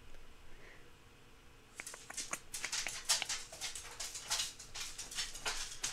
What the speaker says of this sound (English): My dumb dogs.